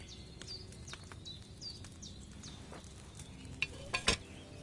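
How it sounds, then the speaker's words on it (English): Boiling cauldron over a flame in Kingdom Come: Deliverance II, soft steady bubbling and sizzling with small pops, a few louder clinks near the end. "Hear that bubbling? It's boiling."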